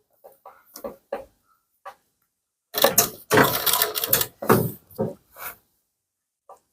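A sewing machine stitches a kurti sleeve onto the body panel, running in several short, loud mechanical bursts with pauses and a few quieter clicks between them.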